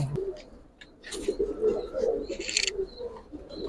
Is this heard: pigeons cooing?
yes